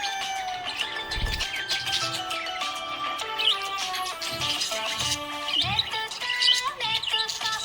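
A happy budgie chirps in quick, bright, scattered tweets and trills, close and fairly loud, mixed over a continuous melodic music backing.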